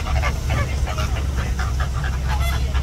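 A flock of flamingos nesting at a safari park gives repeated honking, goose-like calls over a constant rumble of background noise, close and busy.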